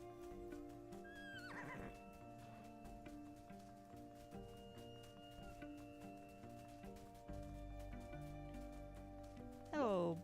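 Palomino horses neighing and whinnying in a long, layered call with a sharp rising whinny near the end, heard fairly close over a quiet background.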